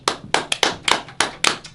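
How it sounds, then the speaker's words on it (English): A few people on a podcast clap by hand, close and loud, giving about eight sharp irregular claps with gaps between them and no talking. "Give yourselves a round of applause."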